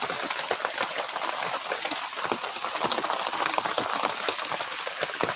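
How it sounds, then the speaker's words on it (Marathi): Heavy rain pours steadily, a dense hiss of drops drumming on surfaces with scattered louder splats, continuous and close throughout. "पावसाचा जोर मात्र भरपूर वाढतोय बघा"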